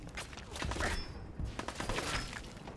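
Enemy gunfire in the video game Fallout 4, a dense crackling fusillade of shots and thuds that keeps going through the whole stretch at moderate loudness.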